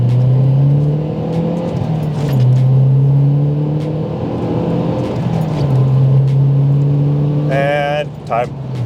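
A stock MazdaSpeed 3 accelerates hard through a 30-70 pull with traction control off. Its engine note climbs strongly and falls with each gear shift, loud and close inside the cabin, with voices talking over it.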